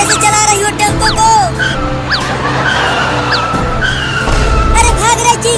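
A tempo auto-rickshaw being driven, with a steady low engine drone running through the whole stretch under overlapping voices, squealing skid-like swoops and chirpy whistles.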